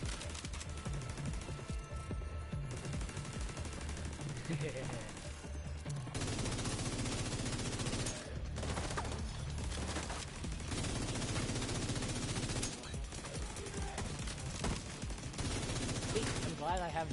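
Repeated bursts of rapid automatic gunfire and single shots ring out in The Division 2, loud and sustained over many seconds, with a voice speaking between volleys.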